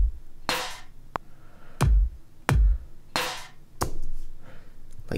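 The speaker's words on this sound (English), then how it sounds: "And then I threw in a snare that sounds like this." A programmed snare drum pattern for a pop beat recreation: about seven sharp, loud snare hits spaced unevenly across a few seconds, each a crisp cracking burst with a short decaying tail, some with a heavier low thump underneath, alone with no talk.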